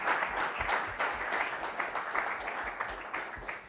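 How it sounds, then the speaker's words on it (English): Applause from an audience at an innovation fellowship pitch event, honoring the judges: a continuous, moderately distant wash of clapping with slight surges in rhythm. "Let's give a round of applause for our judges"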